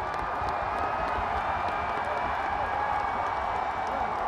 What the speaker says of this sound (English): a big live crowd is greeting the Wolfpack